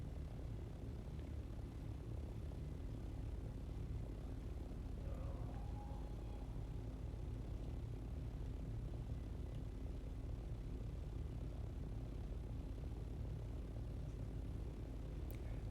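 Steady aircraft engine drone from a flying craft in the video game Dune Awakening, a continuous low hum lasting throughout with no talk over it.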